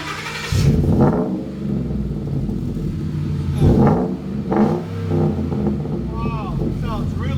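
A deep, throaty engine rumble from a 2014 Ford F-150 5.0 V8 with Flowmaster Super 10 Outlaw muffler and 8-inch center dump tip, close by, swelling in a couple of revs over constant low drone with some wind buffeting.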